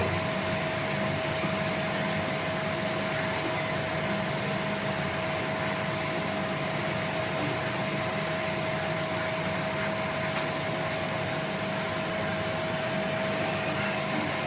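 Koi fish curry gravy boils steadily in a pan, a continuous bubbling hiss with a faint steady hum running underneath, no voices.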